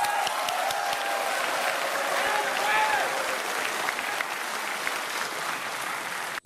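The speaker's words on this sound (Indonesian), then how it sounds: "Kita berikan tepuk tangan kalau itu." Audience applause at the 2014 Indonesian presidential and vice-presidential candidate debate, a dense sustained roar of clapping from a large crowd, loud and steady throughout, with voices faintly mixed in.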